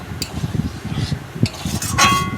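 Fried potatoes being stirred with spices in a pan while making aloo dum, a spoon scraping and clinking against the metal in an uneven rhythm with a faint sizzle underneath, close and fairly loud.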